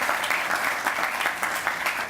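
Applause for delegate Danny Marshall at a Danville event, a burst of dense crowd clapping with rhythmic individual claps standing out, continuous and close.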